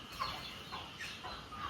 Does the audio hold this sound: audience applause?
no